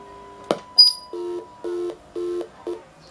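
A DIY telephony device plays a series of short, clipped electronic tone bursts after a handset is placed back on hook, about four evenly spaced beeps following an initial click, clear and close with no talking.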